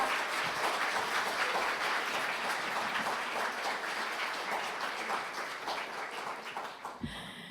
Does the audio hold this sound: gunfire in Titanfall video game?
no